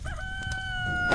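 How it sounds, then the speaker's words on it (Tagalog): A rooster crows at dawn, one short clear drawn-out call with a rising then level tone, fairly near and alone against faint background noise. "Ayan, tumilaok na mga manok."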